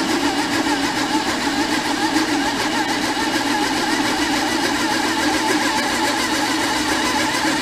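A mini lathe turning at 660 RPM while cutting metal to make T-nuts gives a steady, unbroken mechanical whir with a dense hiss that holds an even level throughout, with no talk.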